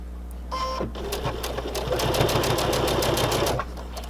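A sewing machine stitches a mast filter pocket, opening with a brief clicking rattle from the needle being set, then a steady close run of rapid stitching for over two seconds before stopping.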